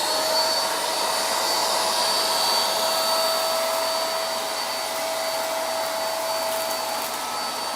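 A Lidl Parkside wet and dry vacuum cleaner runs continuously, a loud, steady whine with a high tonal hum that holds level from start to finish.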